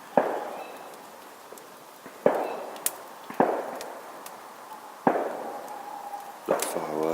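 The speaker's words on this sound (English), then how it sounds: "We can actually see some fireworks through the trees in the distance going off as well" Fireworks go off in the distance through trees at a wild camp. Several separate muffled bangs are spaced a second or two apart, each with a rolling echo, and faint pops sound between them.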